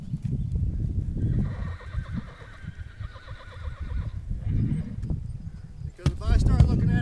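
A horse is ridden at a pace, hooves clip-clopping steadily up close with an occasional whinny, while someone talks over much of it.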